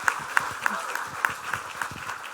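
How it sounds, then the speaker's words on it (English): A modest round of applause from a small group, steady clapping with a few sharper individual claps standing out. "Let's give them a round of applause for spending some time with us."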